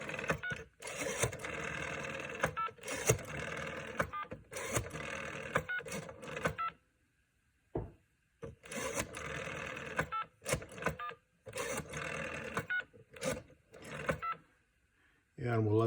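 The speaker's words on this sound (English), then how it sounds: "And we'll let the home line ring." A home telephone line rings repeatedly while a supervision charge indicator is being demonstrated; a loud electronic ring comes in regular bursts with short pauses, close by, with no talking over it.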